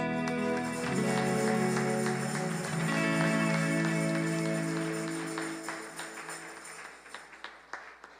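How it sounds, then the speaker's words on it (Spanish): Sustained tonal music fades out and gives way to scattered hand claps from a church congregation, growing sparser toward the end. "Dale un aplauso al Señor Jesús."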